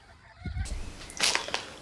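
Short honking squawks from nearby chickens on a farm, a couple of quick bursts after a brief rustle, fairly faint overall.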